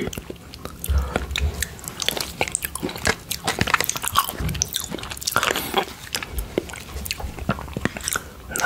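Cherry yoghurt being eaten up close, with soft wet mouth sounds, lip smacks and small squishy bites repeating steadily and alone.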